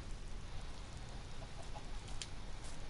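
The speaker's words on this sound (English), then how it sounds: "That's not you, that's a chicken." Chickens cluck faintly in Minecraft, a few soft short clucks over a steady background of rain-like ambient noise.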